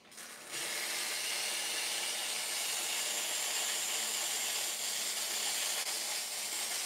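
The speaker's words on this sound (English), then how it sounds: "I'll show you guys the steam pressure before we get going." Steam wand on a Quick Mill Anita heat-exchange espresso machine bursts open after a brief quiet start into a loud, steady, full hiss that holds unbroken for several seconds.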